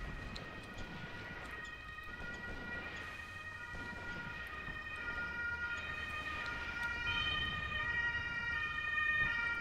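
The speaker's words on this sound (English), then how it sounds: "Sorry about the sirens in the background" An ambulance siren wails outside, its rising and falling tones muffled at first and growing louder and closer over the stretch.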